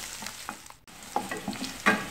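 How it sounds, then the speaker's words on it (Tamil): Finely chopped large onions sizzling and frying in a pan, a soft steady crackle with light stirring scrapes, fairly quiet and close. "ஒரு பெரிய வெங்காயத்தை இந்த மாதிரி பொடி பொடியா நறுக்கி போடுங்க."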